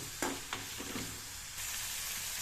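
Tempering spices frying in oil for upma, a soft steady sizzle with a couple of quick stirring clicks early on, the hiss swelling slightly toward the end, quiet and with no talking.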